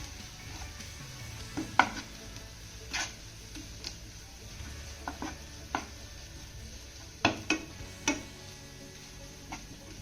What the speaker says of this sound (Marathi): त्यानंतर हा मसाला आपल्याला एक मिनिटभर छान असा परतून घ्यायचा आहे